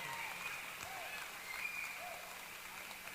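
Guests at an Uzbek wedding applaud in a steady, faint wash of clapping, quiet and distant, with no single claps standing out.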